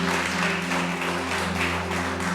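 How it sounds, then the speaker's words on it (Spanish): Congregation applause in a church during a pastor's sermon, an even, steady spatter of many hands clapping, moderately loud, with a sustained low musical hum underneath. "Vamos a darle un aplauso al Espíritu de Dios"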